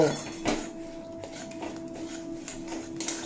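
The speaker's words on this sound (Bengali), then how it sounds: "দিয়ে মশলাটা ভালোভাবে কষিয়ে নেব।" Spice masala for a potato curry being sautéed in a pan: intermittent close utensil scrapes and clinks against the pan over a low steady hum, fairly quiet, with no clear speech.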